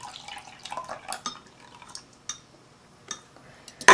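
Milk and an egg being stirred together in a bowl for pancake batter, with light wet sloshes and utensil clinks against the bowl coming in short irregular bursts, ending in a sharp clatter.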